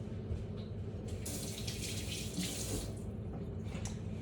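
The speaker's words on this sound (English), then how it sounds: "I'm just gonna wash my hands." Tap water runs steadily into a kitchen sink while hands are washed, a continuous hiss that swells in the middle and stays at a moderate, even level with no talk.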